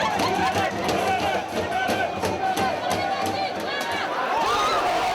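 An angry, disorganized crowd confronts police at Gare du Nord in Paris, a dense wall of shouting and agitated voices that roars without pause, close and loud, with cries rising above the din.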